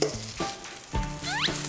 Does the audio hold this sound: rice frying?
yes